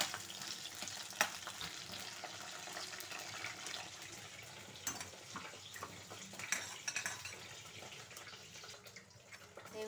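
Stuffed eggplants with a few cloves frying in a pan, a soft continuous sizzle with scattered clinks and scrapes of a spoon, close but low in level, with no talking.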